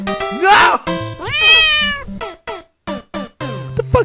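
Cartoonish cat meows from the video game Cat Mario, several distinct rising and falling meows with harmonic tones, mixed with game jingles and effects, loud and close.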